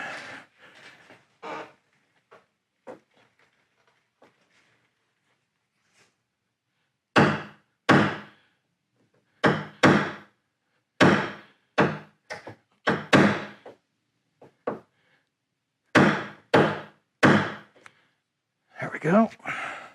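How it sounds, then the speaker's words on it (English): A metal center punch gets tapped several times to mark a drill hole while a hood lift kit goes onto a 2003–2004 LST. The hits are sharp and come in irregular clusters close by, with quiet gaps between them. "let's take our center punch"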